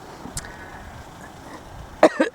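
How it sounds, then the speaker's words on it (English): A sharp cough bursts out near the end, a couple of quick harsh hacks following a quiet stretch with a faint click early on. "That's a cough."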